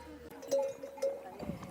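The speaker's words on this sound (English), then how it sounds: "Goats have got bells on too." Faint bells worn by goats clink a few times in the distance on a mountain ridge in Asturias, soft and irregular over quiet ambience.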